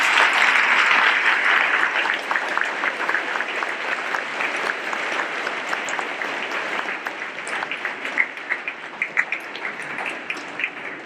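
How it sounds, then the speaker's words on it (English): A school Veterans Day assembly audience applauds in a broad, dense wash of clapping that holds steady and then slowly thins toward scattered individual claps near the end. "let's give him another round of applause"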